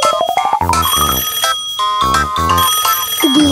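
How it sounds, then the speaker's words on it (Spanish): Cartoon telephone ringing in a children's Halloween animation, a loud bell-like ring mixed into busy musical score with rising and falling tones, sounding continuously with no speech. "¿Qué es eso que suena?"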